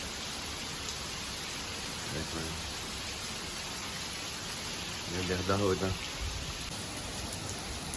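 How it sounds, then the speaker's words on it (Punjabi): Heavy rain pours down steadily at a farmhouse, a dense, even hiss filling the whole stretch, with a person speaking briefly over it near the middle. "ਮੀਂਹ ਫੇਰ ਬਹੁਤ ਤੇਜ਼ ਆ"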